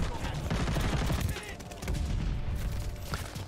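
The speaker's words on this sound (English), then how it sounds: "It's a marksman rifle with a full auto barrel attachment." A G43 marksman rifle fitted with a full-auto barrel attachment fires in Call of Duty: Vanguard. Rapid, dense bursts of loud gunfire come in two sustained strings with a short gap between them.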